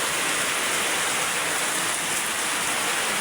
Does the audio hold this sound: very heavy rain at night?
yes